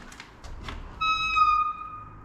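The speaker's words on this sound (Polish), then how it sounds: "Ten charakterystyczny dźwięk piszczących drzwi w opuszczonym miejscu." A door squeaks in an abandoned railway station in Lower Silesia: a sustained, high, tonal creak lasting about a second, preceded by a few soft taps and thuds in an otherwise quiet, echoing space.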